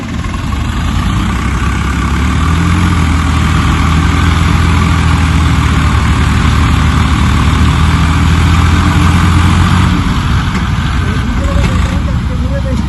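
A tractor engine rumbles loudly and steadily close by, a deep continuous chug with voices talking over it.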